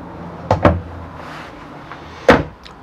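Drawers in the master suite of a 2014 Tiffin Phaeton 42LH motorhome open and shut, a quick pair of close wooden knocks, a soft slide, then one firmer thud.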